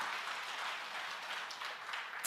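An audience claps steadily through a speech about South Korean president Syngman Rhee, a dense, even wash of applause at moderate volume with no voices over it.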